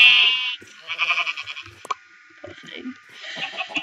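Sheep in the video game Minecraft bleat in a few short, bright calls, the first clear and near, with scattered game noises between the cries.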